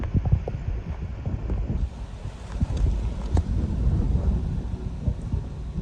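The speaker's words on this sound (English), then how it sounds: "Leftover wind going on." Leftover wind from Hurricane Nicole in Jupiter, Florida gusts and rumbles against the microphone in steady, rough buffeting over several seconds, with no voices.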